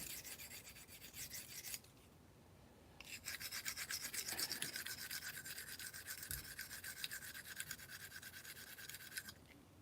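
Knife blade drawn across a sharpening stone to grind its bevel, producing rough rasping strokes in close succession, with a brief pause and then a longer continuous run of scraping, near and fairly quiet, no talk.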